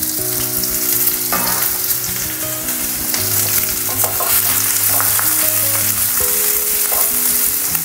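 Garlic, ginger, sliced onions, green chillies and curry leaves fry in hot oil, a close, steady sizzle with occasional stirring clatters of a spoon against the pan.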